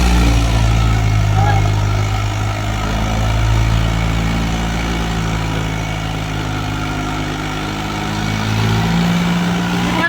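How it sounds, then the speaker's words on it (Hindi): A Mahindra 585 tractor engine running steadily, a loud continuous low rumble close by with no talk over it. "दूसरा ट्रैक्टर बुलाया महिंद्रा 585"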